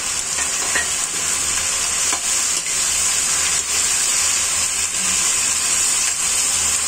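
Tomatoes and green chilies fry in a pan over cooked onions, giving a loud, steady, close hiss and sizzle with faint stirring underneath and no talk.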